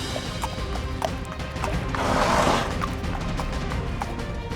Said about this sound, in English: The prince rode on his horse for a very long time before finally arriving at Sleeping Beauty's castle.